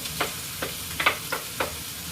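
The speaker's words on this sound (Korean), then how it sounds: "볶는 게 센불에 볶게 되면 어, 껍질이 튀김 형태로 되는 거예요" Squid, garlic and carrot stir-fry over high heat in a pan, a constant sizzle broken by regular crackling bursts as the food is tossed, with no voices.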